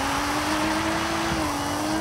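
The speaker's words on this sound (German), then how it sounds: "Hierzu nehmen wir uns als Beispiel den BMW M3 und hören uns erstmal den Standard-Sound an." Stock BMW M3 engine in the video game Forza Horizon 5, holding a steady, even drone at fairly constant revs for about two seconds, with no talking over it.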